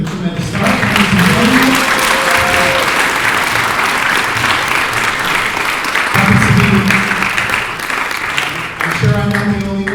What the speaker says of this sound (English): offer a big round of applause to Sinfonia one more time for the tremendous start